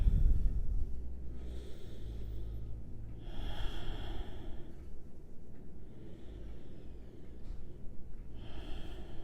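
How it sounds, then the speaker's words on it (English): Slow, deep breathing during a passive yoga stretch, several long audible inhales and exhales through the nose, close and soft, with a faint airy rush and no talking. "we'll take 5 breaths here"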